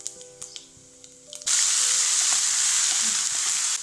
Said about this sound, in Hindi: तेल गरमे अछि, हाफ चम्मच से कम है में पाँच फोरन दऽ देलहुँ हेँ।